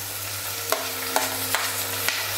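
Finely chopped tomato is stirred into browned onions in a frying pan, and the low sizzle is broken by four short scraping stirs at an even pace over a steady background hum.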